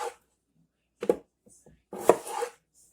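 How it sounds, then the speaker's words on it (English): A knife chops through washed potatoes on a board for a catfish and potato salad meal, a few separate cutting strokes with quiet pauses between them. "I'm going to cut them potatoes."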